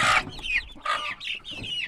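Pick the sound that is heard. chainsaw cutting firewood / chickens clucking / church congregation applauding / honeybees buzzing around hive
chickens clucking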